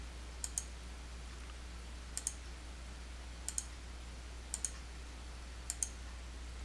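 Faint, crisp computer mouse clicks on software buttons, arriving as five quick double clicks spaced a second or so apart over a low steady hum, with no talk.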